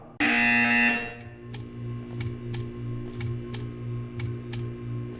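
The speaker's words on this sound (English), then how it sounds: "You will hear a buzzer." A loud electronic buzzer sounds once in a Portal 2 video game, a harsh sustained tone lasting about a second, followed by a series of softer regular ticking pulses over a low hum.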